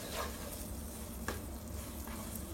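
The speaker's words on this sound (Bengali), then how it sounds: "এখন অনবরত 4-5 মিনিট নাড়তে হবে।" A spoon stirring a sticky sweet rice laddu mixture in a pot over the stove, quiet scraping strokes with a faint sizzle underneath and a few sharper scrapes against the pot.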